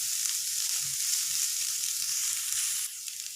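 Grated boiled potato and onions sizzle loudly in a frying pan while being stirred, a steady hiss with soft scraping beneath and no talking.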